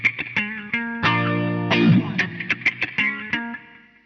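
Guitar run through a Korg A3 preset 76 with auto wah, delay, flanger and plate reverb. Plucked notes and a sustained chord carry a sweeping, swirling tone with lingering echoes, close and clear, with no voices.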